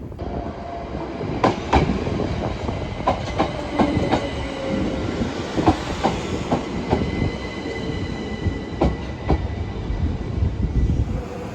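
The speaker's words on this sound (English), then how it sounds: "Trains in the distance." A train on a Sussex branch line near Newhaven Harbour rumbles past with clattering wheels and repeated sharp metallic clicks over the rails, continuing steadily for several seconds without any voices.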